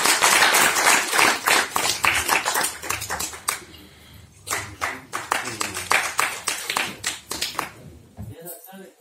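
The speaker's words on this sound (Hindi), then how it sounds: "सभी लोग तालियों से स्वागत करें।" Audience clapping in welcome at an anniversary and award ceremony, loud rhythmic hand claps in repeated bursts with a brief lull partway through before resuming, ending abruptly.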